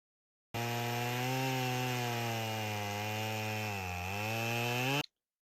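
Chainsaw mill ripping an inch-thick slab from a redwood log, a loud steady engine drone with a slight pitch dip near the end, running alone for about four and a half seconds.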